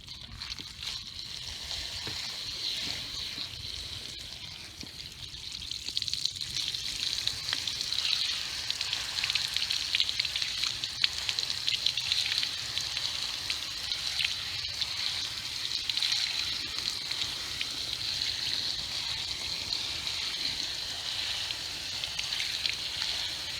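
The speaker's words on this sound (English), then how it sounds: "rinse your filter with low pressure water" A K&N automotive air filter is rinsed with low-pressure water, giving a steady hissing spray that runs continuously throughout, growing a little louder partway in.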